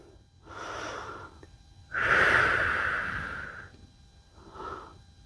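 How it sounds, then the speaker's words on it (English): Deep yoga breathing during a twist: three close, audible breaths, the middle exhale long and forceful, the others softer and shorter, with no talking. "With every exhale, taking that twist a little bit further."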